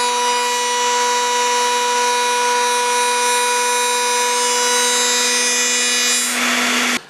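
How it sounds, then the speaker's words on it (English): A woodworking router spins steadily while trimming the end off a sacrificial piece of wood, a loud sustained high tonal whine with harmonics that cuts off abruptly at the end after a brief burst of cutting noise. "I'm going to run that across against the cutter. I'll cut the end off the sacrificial piece of wood"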